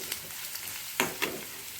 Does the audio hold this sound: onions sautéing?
yes